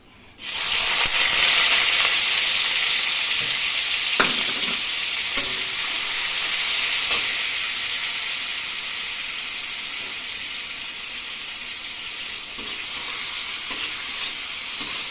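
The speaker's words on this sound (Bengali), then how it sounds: "এটা একটু ভালো করে ভেজে নিয়ে তারপরে ডালটা দিয়ে দেবো" Ingredients fry in a pan before dal is added: a loud, steady sizzle bursts in at the start and slowly eases, broken by occasional scrapes and taps of stirring, with no talking.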